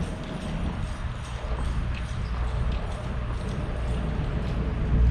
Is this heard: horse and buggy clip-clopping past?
yes